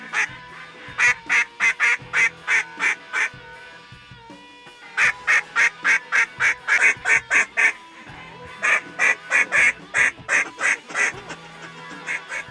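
Ducks quack in rapid rhythmic bursts of calls, separated by short pauses, over a low outdoor hum during a Missouri duck hunt with flocks flying overhead.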